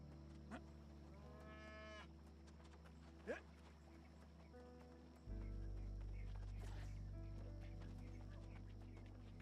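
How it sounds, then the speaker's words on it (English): A cow moos twice in the video game New World, long drawn-out calls over a steady background hum and music, with a brief sharp sound between them. "You're just mooing at me."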